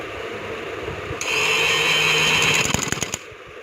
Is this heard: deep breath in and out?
no